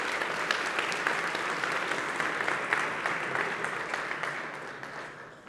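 A full round of applause from an audience at a programming contest's closing ceremony, steady and fairly close, tapering off slightly near the end.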